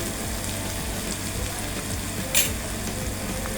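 Masala sautés in a pan with a continuous close crackling sizzle, broken once by a brief utensil clink against the pan.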